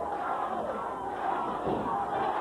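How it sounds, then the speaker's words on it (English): A dense wrestling arena crowd roars and yells continuously at a 1984 Portland pro wrestling match, a steady loud wash of voices filling the whole stretch. "Listen to that crowd."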